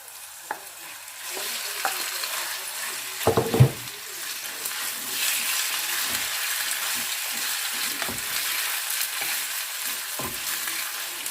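Beef sizzling in a pan for a stir fry, a soft continuous hiss with a few louder clatters and stirring scrapes near the start, close and moderately quiet.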